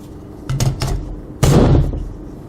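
Magazine seated into a Nova NAK-9 9mm Romanian AK-pattern rifle: a couple of light metallic clicks, then one sharp, loud clack as it locks in, close up.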